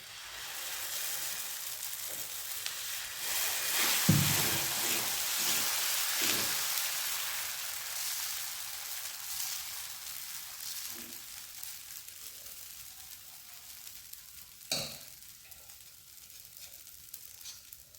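Rice dosa batter made from ration-shop raw rice sizzles on a hot pan, a bright hiss that swells as the batter is poured and spread, then settles into a softer steady crackle with a few clinks, no talking.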